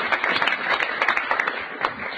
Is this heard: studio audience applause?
yes